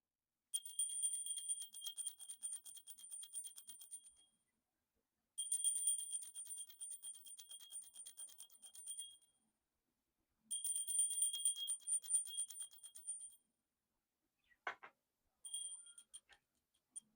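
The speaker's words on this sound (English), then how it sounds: "Today I'll be using the pewter bell" A small pewter bell rings in three long shimmering bursts separated by silence, followed by a few brief faint taps near the end.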